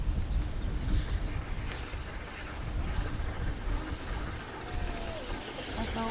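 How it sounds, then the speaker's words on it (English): Strong wind buffets the microphone outdoors at a trackside spot where the steam locomotive 60103 Flying Scotsman runs, a steady low roar and rumble that carries on for several seconds without a break. "That's all wind."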